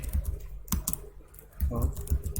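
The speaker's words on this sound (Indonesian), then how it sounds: "Terus kita akan membuat subdirectory work and play. Ketikkan mkdir" Keys clicking on a computer keyboard as a command is typed in an Ubuntu terminal running in VirtualBox, a quick irregular run of near taps with a low steady hum and a speaking voice under them.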